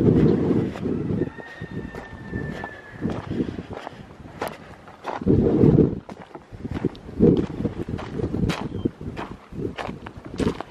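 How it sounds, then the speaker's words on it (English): Gusty outdoor wind at an off-grid property rumbles against the microphone in loud buffeting surges that come and go, with scattered clicks and faint bird chirps between gusts. "And yeah, it's still windy."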